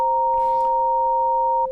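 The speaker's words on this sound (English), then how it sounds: "Minor 7. Sounds like this." Two pure sine tones sound together as a minor seventh interval, a steady, clean electronic dyad held evenly for under two seconds with nothing else audible.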